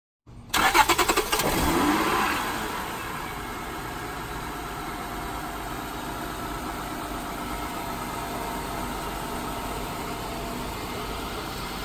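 A 2003 Honda Odyssey engine cranks briefly and catches, then settles into a steady, even idle that hums on close by without voices.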